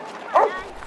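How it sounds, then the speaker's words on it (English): Excited dogs held in cages at an animal shelter let out a single short yip or bark burst, mid-loud, amid a murmur of background voices and kennel noise. "Dogs are adorable and they're so excited to see people because they're stuck in cages"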